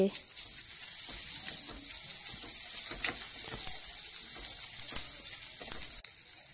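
Dried and green chillies frying in a pan, a steady close hiss of sizzling oil with small crackles and occasional stirring taps throughout.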